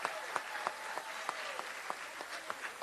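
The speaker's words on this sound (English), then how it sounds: "let's have a round of applause for Mrs. Dillon's class" Faint, distant applause from an audience at an elementary school fourth grade promotion ceremony, a soft continuous patter with a few louder claps popping out at a steady pace.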